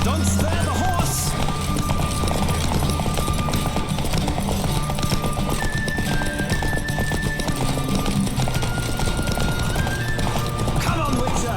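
Horse hooves pounding at a gallop in a Witcher 3 race, a fast unbroken clip-clop rhythm with a neigh or two, layered over orchestral music throughout.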